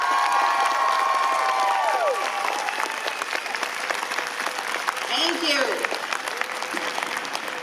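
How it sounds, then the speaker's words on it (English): Loud, sustained applause and cheering from a crowd at an outdoor Women's March rally in Roanoke, with occasional shouts rising over the clapping and a speaker talking briefly near the start. "a resounding round of applause"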